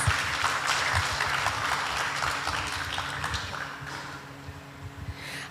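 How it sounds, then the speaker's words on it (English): An audience at the 35th International Cycling History Conference applauds in a steady, dense wash of clapping that holds for several seconds before thinning out near the end. "Give a round of applause"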